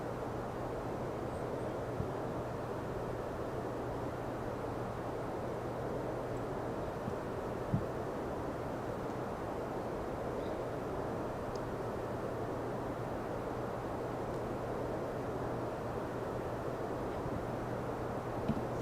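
Steady airliner cabin drone from the X-Plane 12 flight simulator, a constant low engine and air hum with a faint tonal line, unbroken and without talk.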